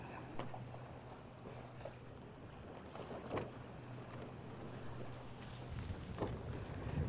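Sailboat beating into the wind under staysail, a faint, steady wash of wind and water with soft creaks and knocks from the hull and rigging.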